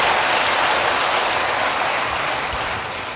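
Loud congregational applause in a church service, a dense, continuous burst of many hands clapping that fades slightly toward the end.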